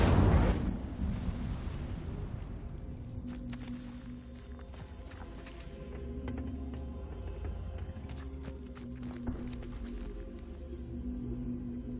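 An Incendio fire spell cast in Hogwarts Legacy opens with a loud whooshing burst, then settles into a rumbling crackle with scattered impacts and footsteps.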